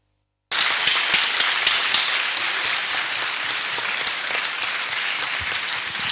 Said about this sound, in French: ces applaudissements étaient pour l'ensemble de nos intervenants de cette table ronde